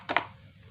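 Kaffir lime leaves sliced thinly with a knife on a board: two quick crisp cuts close together, near and fairly soft, followed by quiet room tone.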